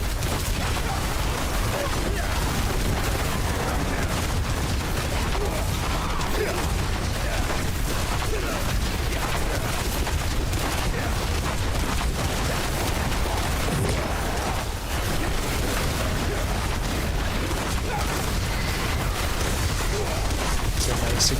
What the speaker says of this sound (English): It's a nice explosion.